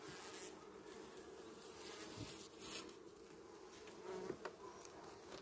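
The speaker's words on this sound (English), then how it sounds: "And if they get more agitated, you'll notice the sound levels go up." Agitated honey bees drone inside an open hive while it is being worked, a dense, continuous buzz that stays fairly loud throughout with a slight swell and a few brief bumps toward the end.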